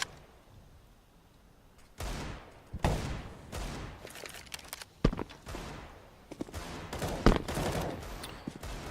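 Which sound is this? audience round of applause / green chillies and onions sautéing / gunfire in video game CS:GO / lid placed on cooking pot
gunfire in video game CS:GO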